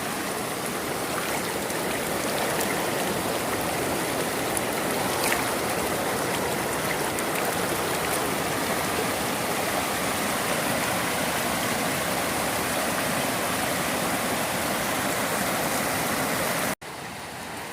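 A rain-swollen stream carrying muddy water gives a loud, constant rushing roar close by that holds steady for the whole stretch and then cuts off abruptly near the end.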